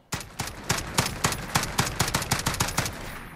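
An FN FAL Para rifle firing in Call of Duty Modern Warfare, a rapid string of about a dozen loud, sharp close shots at an even rhythm, each with a short ringing tail.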